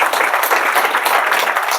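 Seminar audience at a neurotherapy workshop in Delhi applauding steadily, a dense, even wash of many hands clapping close by with no gaps and no talk.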